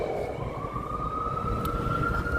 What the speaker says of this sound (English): the noise of the sirens still on in New York City